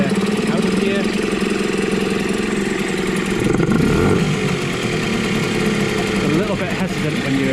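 A Yamaha Malta 3hp (6L5) outboard motor, freshly serviced with a new water pump, runs steadily and loudly close by, its engine note dipping and swelling slightly as it is worked, with a voice talking faintly underneath.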